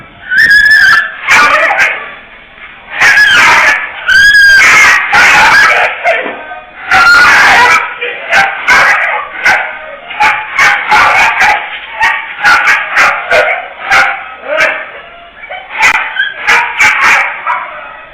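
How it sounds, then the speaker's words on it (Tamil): A dog barks repeatedly and loudly while attacking an elderly man on a street, its sharp, rapid barks mixed with screams and yelps, close and continuous throughout. "திடீர் என்று அந்த நாய் அப்படியே குறைக்கிறது."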